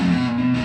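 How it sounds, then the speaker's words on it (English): An electric guitar runs through the distortion setting of a Sonorus pedal, giving a brief, loud, sustained buzzing chord with no voices. "Right, so that's the distortion."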